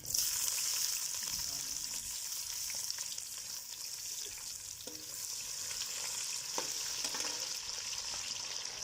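Onions fry with masala in a pan for chicken pulao, giving a steady close sizzle with soft stirring scrapes and small pops, no voices.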